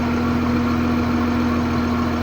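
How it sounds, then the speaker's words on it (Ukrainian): A Case MX 270 tractor engine idling steadily at low revs, a constant even drone with a strong hum and no change over a couple of seconds, close up and with no talking. "Скидаємо обороти."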